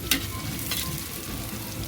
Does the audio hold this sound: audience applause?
no